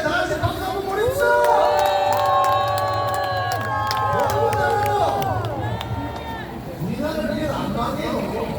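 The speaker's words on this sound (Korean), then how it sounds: "자, 우리 김찬영 유튜브님께 다시 박수 한번 보내주세요." A rally crowd outside Busan Station cheers and shouts over a loudspeaker voice, with dense clapping and chanting that swells, eases briefly near the end, then picks up again.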